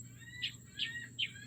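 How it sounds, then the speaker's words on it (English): Seagulls give three short, faint calls spaced evenly about four tenths of a second apart, heard at a distance against a low outdoor background. "There's a lot of seagulls, so you may be hearing some seagulls"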